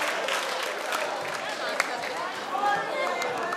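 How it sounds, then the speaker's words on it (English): A live audience at a mind-reading stage show claps and murmurs as a volunteer is called up, with moderate applause blending into crowd chatter and talk. "Sarah, give her a round of applause."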